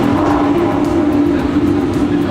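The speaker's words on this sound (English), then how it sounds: "It's an American muscle car, it scares you, it sounds wild" A Shelby Super Snake muscle car engine roars steadily, a loud, close, continuous low rumble heard from inside the car with the windows open.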